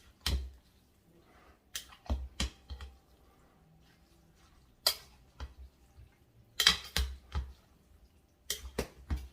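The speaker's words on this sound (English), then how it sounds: "So we're going to stir that in there too." A spoon stirs vegan spaghetti and sauce in a cooking pot, giving scattered close clinks and scrapes against the metal with short pauses between strokes and no talking.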